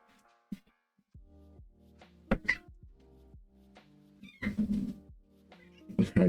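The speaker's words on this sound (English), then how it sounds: "let me let my cat back in." A cat meows at a door, a few separate mid-loud calls over low household noise and faint background tones.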